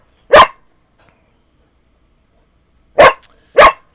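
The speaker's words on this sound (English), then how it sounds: "These dogs." Dogs bark three times, loud and close, with one sharp bark followed by a long pause and then two quick barks in a row.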